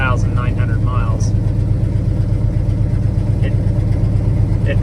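A 1980 K30 tow truck with an aftermarket electric fuel pump runs with a steady, deep engine rumble throughout, while a person talks over it.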